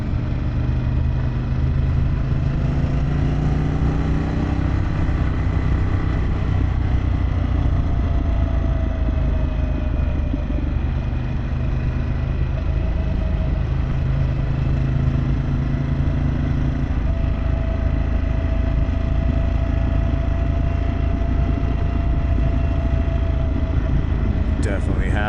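A Harley-Davidson Pan America motorcycle fitted with a Vance & Hines exhaust, holding a steady, continuous engine drone throughout while riding, loud and close with wind noise, and a rider's voice over it.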